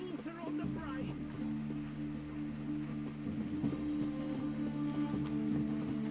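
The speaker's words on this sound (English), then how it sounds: "It's raining again." Rain in The Witcher 3 patters as a steady wash under a low droning game ambience, with scattered drops and faint clip-clop-like knocks throughout.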